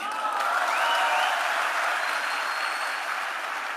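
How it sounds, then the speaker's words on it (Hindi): An indoor audience at a business recognition event breaks into sustained, dense applause, steady and fairly loud throughout with faint crowd noise and a few whoops, no speech over it. "जोरदार तालियों से स्वागत कीजिए"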